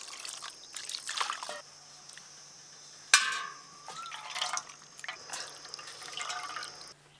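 Cold water is poured and splashed over fresh chhana curds for rosmalai, giving intermittent trickling and dripping with a sharp clatter partway through, fairly close and quiet overall.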